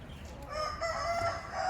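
A rooster at a poultry market in Karaman, Turkey, crows once, fairly faint and distant, over a quiet background.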